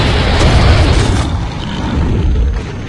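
A loud, sustained explosion in Gears of War 3: RAAM's Shadow, a dense roaring rumble that fills the whole stretch without easing.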